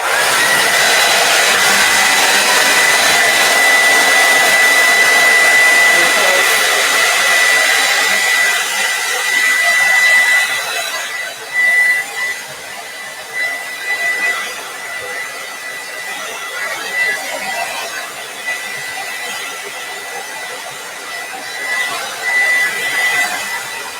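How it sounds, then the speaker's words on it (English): A hair dryer set on hot blows steadily on bent clear vinyl to flatten it, a loud continuous whooshing with a faint whine, easing and fluctuating in the second half as the airflow shifts. "just get a blow dryer out, your hair dryer, put it on hot, and flatten that baby out"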